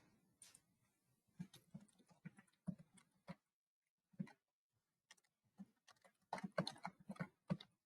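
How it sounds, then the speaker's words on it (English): Computer keyboard typing comes in irregular bursts of close, crisp key clicks with short pauses between, alone and without talk. "I'm just typing the answer in"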